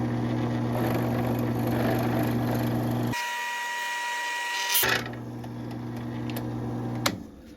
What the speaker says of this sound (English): then we can really start drilling now.